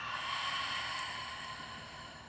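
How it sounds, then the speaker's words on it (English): A deep, open-mouthed exhale during a yoga breathing exercise on a tropical island: a steady, breathy rush of air that holds for about two seconds and then fades slightly, close and alone with no talking. "Take a deep breath in through your nose and then an open mouth"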